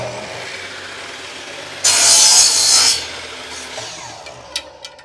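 Saw cutting through drone tubing, one loud, harsh stroke of about a second standing out over quiet workshop background, followed by faint clicks.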